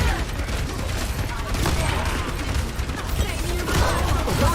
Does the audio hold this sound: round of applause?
no